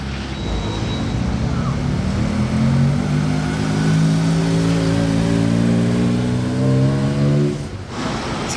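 A turbo 50th edition sports car, top down, cruising in sunny Monaco with a steady mid-pitched engine note that rises as it accelerates, rich harmonics climbing over several seconds before cutting off near the end.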